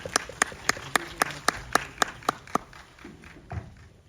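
Cinema audience at a film screening with director and actor present gives a short burst of clapping, a regular run of sharp claps that quickly fades out, ending with a dull thump.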